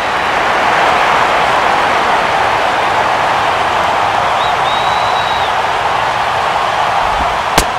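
Baseball stadium crowd in the MLB 12 The Show video game, a crowd of over 31,000 rising to its feet, producing a continuous loud roar of cheering that stays steady, ending in a sharp click.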